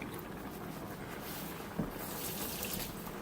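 A kitchen utensil is rinsed under a running tap, a steady soft rush of water with one brief clunk partway through, close and quiet.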